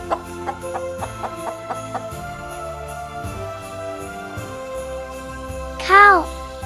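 A chicken clucks in a quick, even series of short pulses, then calls out once near the end in a louder, sharper squawk.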